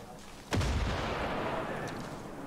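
Grenade blast in the fantasy role-playing game Baldur's Gate 3, a single sudden heavy boom that rolls into a long, rumbling decay, with voices faintly in the background.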